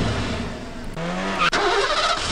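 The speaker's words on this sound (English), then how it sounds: "because we gotta have like a car sound" Car engine sound effect from the 3D Movie Maker program, a mid-pitched motor that revs with a rising whine and ends in a brief skid, steady and close with no talk.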